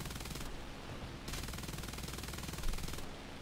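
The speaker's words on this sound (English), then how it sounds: "I started missing the 20 mil, so I'm just gonna shoot my MGs now" Machine guns of a Bf 109 F-4 fighter in War Thunder firing in rapid bursts, a dense continuous rattle with short pauses between bursts, loud and close.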